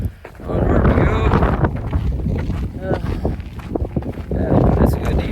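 Gusty wind buffets the microphone on the Pacific Crest Trail, loud rumbling blasts that swell and ease over the whole stretch, with faint footsteps or movement underneath.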